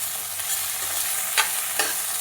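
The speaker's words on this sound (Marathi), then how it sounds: "वाटाणे आणि मिरच्या चांगल्या भाजून घ्यायच्या" Peas and green chilies sizzle steadily as they roast in a hot pan, with a couple of sharp scraping stirs partway through.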